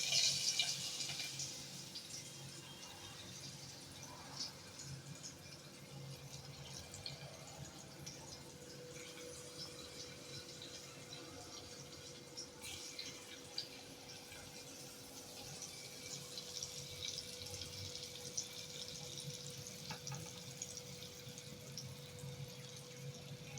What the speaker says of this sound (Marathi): थोड्या पाण्याने धुवून घ्यायचं कारलं